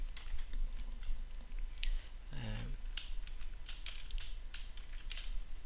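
Quick bursts of computer keyboard typing, close and crisp, with clicky keystrokes in short clusters and a brief voice under them.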